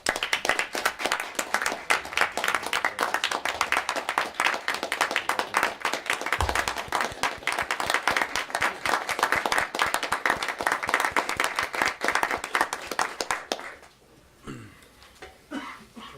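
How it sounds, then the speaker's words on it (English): A roomful of people at a town selectboard meeting claps for community volunteers, dense steady applause lasting about thirteen seconds before it stops abruptly and a few low voices follow. "So I'd like to give you a round of applause."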